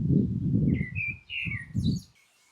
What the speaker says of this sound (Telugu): చెట్ల మధ్యలో ఈ బర్డ్స్ ఇవన్నీ సౌండ్ చేస్తూ